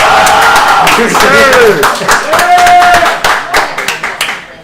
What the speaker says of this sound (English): One guy who screamed and a few other claps